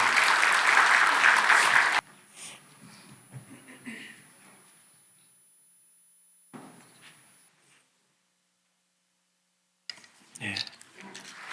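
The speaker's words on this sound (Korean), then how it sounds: "우리 축복의 박수 한번 하겠습니다." A church congregation at an elders' ordination service bursts into loud, dense applause for about two seconds, then it drops away to quiet room sounds, scattered shuffling and a few soft knocks.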